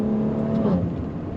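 Exhaust note of a 2017 Maserati Levante S SUV while driving, a steady close engine drone with a low rumble, continuous and fairly loud, no voices.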